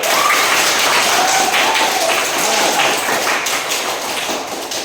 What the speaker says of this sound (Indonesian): itu adalah tepuk tangan untuk kalian yang sudah mau presentasi hari ini